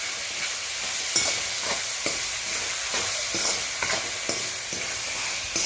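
A spatula mixes puffed rice khichdi with ketchup and coriander in a hot pan: a continuous close sizzle under regular rhythmic scraping and stirring strokes, roughly one every half second, at an even, fairly loud level.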